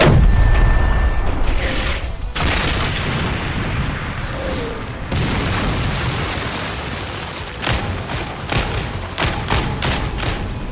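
Booming artillery fire and explosions in a Warhammer 40k battle scene between Astra Militarum guardsmen and Necrons, shells blasting craters into the ground, a dense rumbling barrage with scattered heavy thuds and crackling bursts, loud and with no voices.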